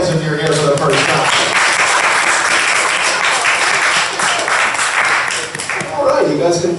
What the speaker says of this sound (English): Clap your fucking hands if you're here for the first time.